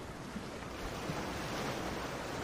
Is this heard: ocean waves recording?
yes